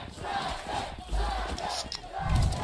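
A large crowd roars and cheers at an esports tournament, a Valorant match between Sentinels and Cloud9, with a steady, loud swell of voices that surges higher near the end.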